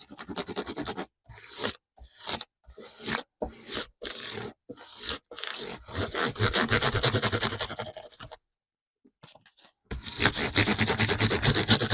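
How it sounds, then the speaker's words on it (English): Guitar frets being sanded with fine 800-grit sandpaper, heard as a series of short rhythmic scraping strokes separated by brief pauses, then a longer stretch of continuous rubbing, close and fairly quiet with no talking. "Let's now make the fret surface smooth with fine sandpaper."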